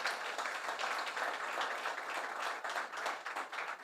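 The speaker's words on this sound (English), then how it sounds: "stand up and give her a big round of applause." An audience at the Jamaica Diaspora Conference 2022 applauds a guest asked to stand, giving a fairly faint but continuous spread of many hands clapping throughout.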